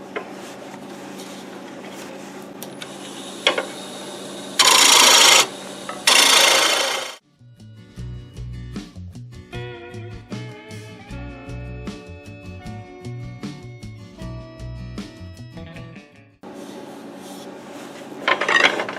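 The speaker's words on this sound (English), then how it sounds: "get the scraper out, finish this up" A hand scraper works a wood-turned macadamia bowl on a lathe, a steady droning rasp with rhythmic tonal chatter that runs for several seconds between louder bursts of spinning, near and alone with no talk.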